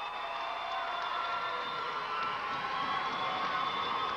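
Home crowd at a high school basketball game in a gym, a steady, loud wash of cheering and shouting voices that fills the room throughout without a break.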